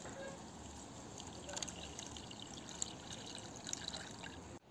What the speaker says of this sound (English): So now I'm just going to add some water into